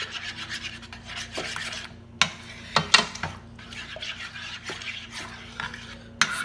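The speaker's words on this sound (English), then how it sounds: "So now I'm just stirring everything" A spoon stirs Nigerian stew in a pot with a steady scraping rustle, broken by several sharp clinks of the utensil against the pot's side.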